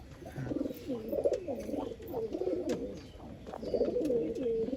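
Several pigeons for sale coo close by in a steady, overlapping run of low, rolling calls with a faint background hiss.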